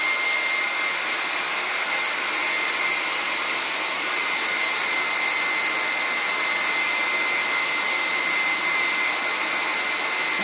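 A hair dryer blows steadily to dry paint on a canvas, a loud, continuous close whoosh with a constant high whine and no talk.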